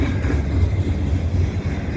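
A CN double-stack freight train rolls westbound past Dorval in winter, producing a loud, steady low rumble of wheels and cars that holds without a break.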